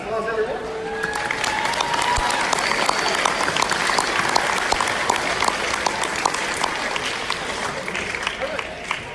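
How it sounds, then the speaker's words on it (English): Steady crowd applause fills a high school underclass awards ceremony, dense and sustained throughout with a few voices and cheers mixed in. "Round of applause, everyone."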